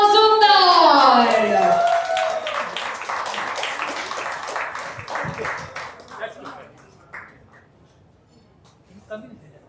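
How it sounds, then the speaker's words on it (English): An audience at a women's event claps in a scattered, fading round of applause, heard briefly after a loud voice and trailing off to a few isolated claps. "Give a huge round of applause for Amrita Mazumdar."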